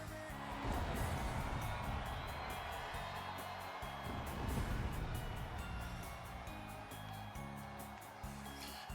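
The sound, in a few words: crowd cheering in a wrestling video game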